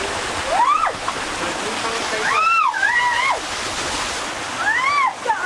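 Water rushes and splashes steadily at a village spring during a morning wash, close by. Voices exclaim over the constant flow.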